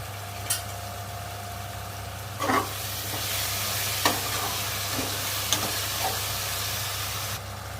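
A spoon stirs masala into egg biryani in a hot pan, giving a few soft scraping strokes over a steady background sizzle and hum.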